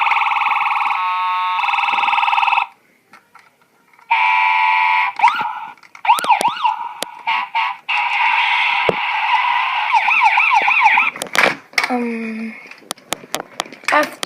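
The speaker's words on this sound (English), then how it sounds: "ambulance," A toy ambulance siren wails in loud, close electronic tones, cycling through steady two-tone and warbling patterns with a short pause and a few clicks between modes.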